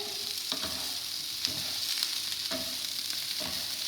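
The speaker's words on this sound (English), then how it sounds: "I've got quite a lot of sizzling now, so I'm going to just pop the heat down." Peppers and other vegetables sizzle and fry in a hot stir-fry pan, a steady hiss with wooden spoons scraping and stirring in periodic knocks, close and with no talk.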